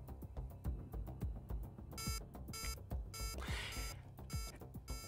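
Repeated electronic beeping from torpedoes in the space game Avorion, rapid pulses in bursts over quiet game music and engine rumble, faint overall and without speech.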